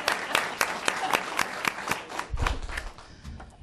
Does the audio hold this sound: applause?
yes